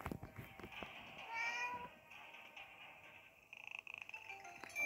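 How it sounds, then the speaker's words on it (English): A cat meowing as it is petted in the horror game Dark Riddle, a few soft, close meows and purring over a faint game soundtrack, with a brief rapid patter near the end. "Let's pet the cat."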